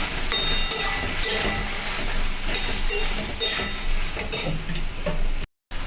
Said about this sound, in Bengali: হলুদ দিচ্ছি হাফ চামচ, দিয়ে এবার একটু নাড়াচাড়া করে নিই।